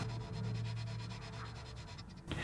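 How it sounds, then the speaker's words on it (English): Sticky-back sandpaper wrapped on a thin stick rubs back and forth in a groove in cherry wood, a steady close scratchy rasp with rhythmic strokes that stops near the end. "I just use a thin stick that's about the size of the groove with some sticky back sandpaper on there to sand those ridges nice and smooth"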